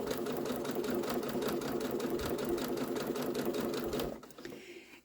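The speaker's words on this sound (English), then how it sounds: "I'm going to back stitch one time, and then I'm going to stitch across." A sewing machine stitches fabric with a brief back stitch, whirring steadily at an even pace for about four seconds before it stops and the room falls quiet.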